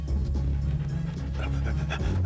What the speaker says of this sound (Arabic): من أين جاء هذا الكلب؟